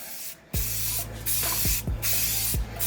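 Aerosol spray applied in a thick coat onto an 11x14 canvas, four short hissing bursts with brief pauses between, fairly close and moderately quiet.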